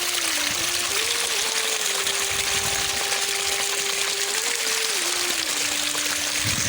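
Water running steadily during village clothes washing, a constant loud rush with a droning pump-like hum underneath and no talking.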